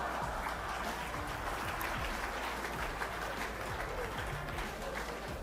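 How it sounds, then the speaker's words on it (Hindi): A studio audience in a live TV show hall applauding, dense sustained clapping from a large crowd that continues steadily at even strength throughout. "हाल में मौजूद इंडियन लोगों ने ही इतनी जोर से तालियां बजाईं"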